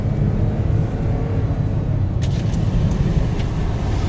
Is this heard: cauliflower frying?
no